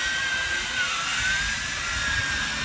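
JJRC X6 Tarantula hexacopter drone in flight: a loud, continuous, high-pitched whine of the spinning rotors stays close and steady, with no talking.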